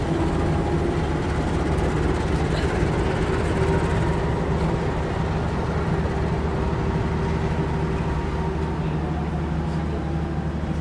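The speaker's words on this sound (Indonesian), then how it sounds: "ini dia langsiran lokomotif kereta api Pangrango" The Pangrango train's locomotive shunts at Sukabumi station, a loud, unbroken diesel rumble and rolling drone that holds steady throughout, close by.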